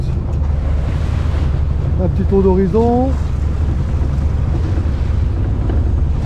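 A sailboat's motor drones steadily throughout, mixed with wind buffeting and water rushing past at sea, while someone speaks briefly in French in the middle.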